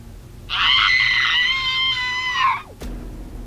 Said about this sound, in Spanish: Un grito estremecedor se escuchó en la grabadora.